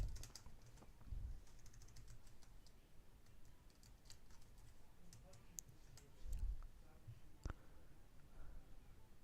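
Quiet, irregular clicking of a computer keyboard being typed on, soft keystrokes in short bursts with a few louder taps and faint low background noise.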